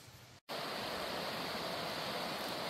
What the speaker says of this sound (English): Kalama River.